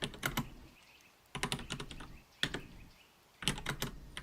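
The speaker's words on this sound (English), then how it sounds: "Nice keyboard sound?" Close, crisp keyboard typing in four quick bursts of clacking keystrokes separated by short pauses, with no voices.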